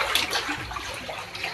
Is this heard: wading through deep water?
yes